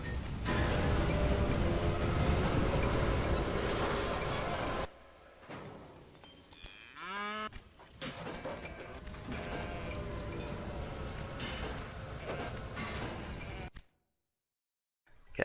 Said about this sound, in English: get some more cattle trains loaded.